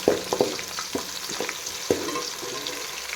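Onions frying in oil for a fish curry, a soft continuous sizzle broken by a few sharp stirring scrapes and clinks, close and moderately quiet.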